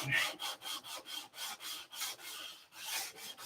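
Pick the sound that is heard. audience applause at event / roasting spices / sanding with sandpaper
sanding with sandpaper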